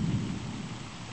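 A deep low rumble of thunder rolls under steady rain during a thunderstorm, strongest at the outset and fading slightly over a second.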